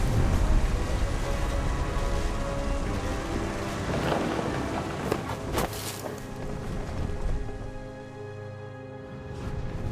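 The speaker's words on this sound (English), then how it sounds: "The thunder sounded much too close and full of angry power" Thunder in What Remains of Edith Finch, a deep rolling rumble under steady heavy rain, with a couple of sharper cracks midway through a continuous, enveloping storm.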